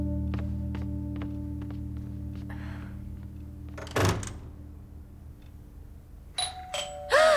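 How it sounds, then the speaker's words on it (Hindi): A doorbell chimes in a steady ding-dong tone that rings on for several seconds, then a sharp thunk of a door follows, with a few brief higher chimes near the end; no one speaks. "जब तुम्हें पासवर्ड पता है तो तुमने डोरबेल क्यों बजाई?"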